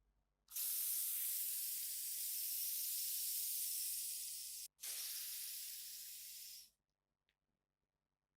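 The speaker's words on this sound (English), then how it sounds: "Let's turn the light off and examine the laser by using this deodorant spray." An aerosol deodorant can sprays in a long hissing burst in a darkened room, pauses briefly, then sprays again for a shorter burst before stopping.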